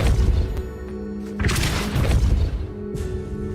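A Depulso spell is cast in Hogwarts Legacy, pushing objects away with a deep booming burst and a crashing, rumbling swell over low game ambience, repeated within a few seconds.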